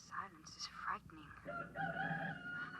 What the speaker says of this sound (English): It sounds like a rooster.